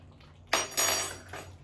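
A spoon is pulled from a kitchen drawer: a sudden metallic clatter and rattle of cutlery, close and loud, lasting about a second before fading.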